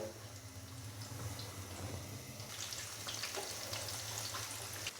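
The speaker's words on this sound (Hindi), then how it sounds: "मैंने बड़ी एहतियात के साथ फ़िश के 4 पीसेस फ्राई होने के लिए ऑयल के अंदर डाल दिए हैं" Four besan-coated fish pieces fry in hot oil in a kadhai, a continuous bubbling crackle with scattered pops and a low steady hum underneath, at moderate volume throughout.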